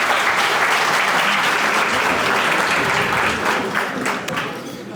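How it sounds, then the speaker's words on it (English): An audience applauds after a children's poetry recital at a Ramadan iftar, a loud, dense burst of clapping that holds steady and starts to thin toward the end. "I just want to ask a collective round of applause for Mina, Pamir, and Lina again for their poetry"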